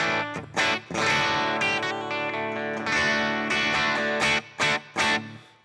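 Electric guitar playing chords with a clean, ringing tone and a touch of reverb, with several short pauses between phrases.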